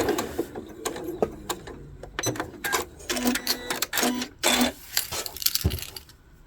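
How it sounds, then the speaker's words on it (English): Sewing machine stitching half square triangle seams for quilt piecing and chaining off onto an ender scrap: close, stop-start bursts of rapid mechanical whirring and clicking with short pauses between. "And sew off onto a ender."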